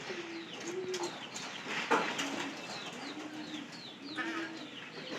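Pigeons coo repeatedly in soft, low rolling calls, with occasional chirps and light fluttering sounds mixed in.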